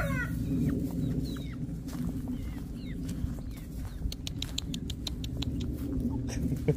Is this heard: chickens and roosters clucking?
yes